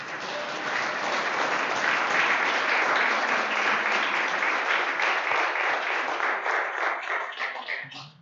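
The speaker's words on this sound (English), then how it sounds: "I'd like to give Pierre another round of applause because he has overcome a major fear." Dense, loud applause from an audience at a school board of directors meeting for a first grader, a sustained wash of many hands clapping that holds steady for several seconds and then fades out.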